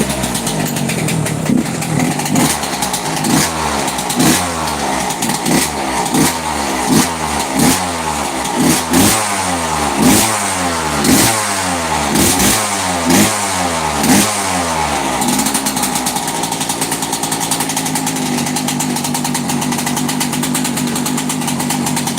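A dirt bike engine catches and revs in repeated throttle blips, each surge rising and falling in a steady rhythm, loud and close, before settling into a rougher idle near the end.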